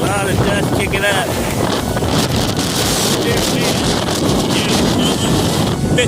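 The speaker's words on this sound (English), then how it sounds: "50 plus miles per hour wind gusts" Gusts topping 50 mph buffet the microphone in a loud, unbroken rush, kicking up dust and tossing trash cans and lawn furniture, with rattling debris mixed into the steady roar.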